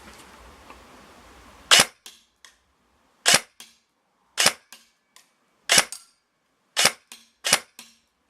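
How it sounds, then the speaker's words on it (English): An ASG Scorpion EVO 3A1 airsoft gun fires six short, sharp bursts of three rounds each, evenly spaced and loud against a quiet background after a brief stretch of low hiss. "Just do a quick couple of 3-round bursts"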